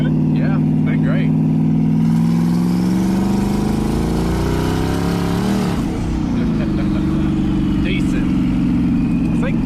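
A twin-turbo LS1-swapped BMW E30 pulls hard in third gear, its engine droning loud and steady from inside the cabin, pitch climbing, dipping at a shift near the middle, then rising again while people talk over it.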